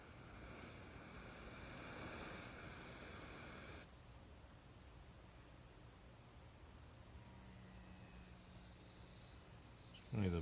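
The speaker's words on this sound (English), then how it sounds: "the bottle makes a funny buzzing sound" A propane and oxygen gas bottle gives a steady hiss and buzz with a faint tonal whine throughout, dropping in level partway, then a sharp burst at the very end, during brazing of locomotive superheater pipes.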